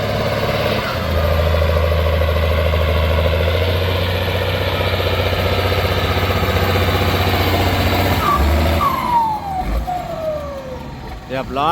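A Massey Ferguson 4708 tractor engine labouring while plowing a furrow, a loud continuous low rumble with steady drone that shifts pitch near the end as the load changes.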